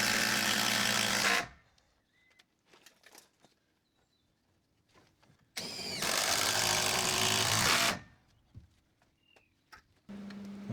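Veranda timber screwed down during an old Queenslander renovation: two loud whirring bursts from a power driver, each a couple of seconds long, with a third starting at the end, separated by quiet gaps and small knocks.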